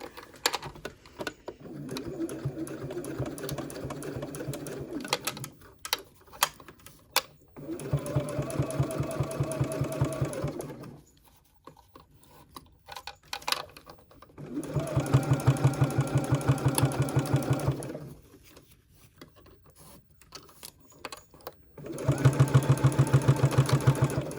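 A sewing machine runs in four bursts of rapid, rhythmic stitching, top stitching a wrist strap with a long stitch length, and pauses with faint handling noise between runs.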